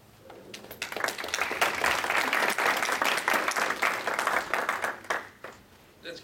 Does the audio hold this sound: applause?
yes